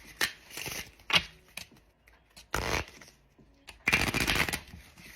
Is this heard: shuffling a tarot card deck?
yes